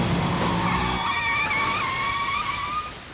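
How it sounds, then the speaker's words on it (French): A car brakes hard and skids in an anime scene, its tires giving a loud, sustained squeal that fades out over a few seconds with no talking. "Appuie sur les freins."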